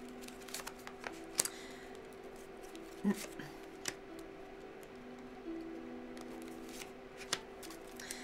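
Tarot cards being laid out on a table in a quiet room, a few soft flicks and taps spread irregularly over several seconds against a steady low hum.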